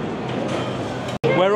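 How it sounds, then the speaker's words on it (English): Riding aboard an amusement park train at Coral Island, Blackpool, with a steady rumbling ride noise throughout, a brief cut-out near the end, then continued rolling sound as people talk over it. "We're on the train,"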